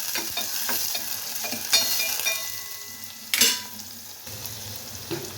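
Sore, small fish or shrimp, being stir-fried with sautéed onions in a pan, a continuous close sizzle broken by repeated scraping strokes of a spatula and a couple of louder clanks against the pan.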